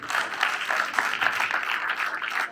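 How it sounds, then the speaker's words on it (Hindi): Audience members at a stage show applaud steadily, a dense and fairly loud wash of clapping that holds throughout. "जोश आया तो एक बार तालियां होनी चाहिए।"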